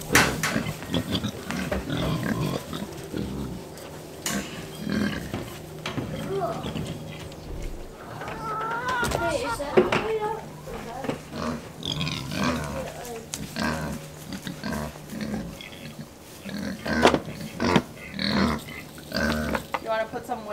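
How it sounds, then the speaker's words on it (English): Several Kunekune pigs grunt and squeal nearby in scattered bursts, while people talk over the animals throughout. "You hear those pigs."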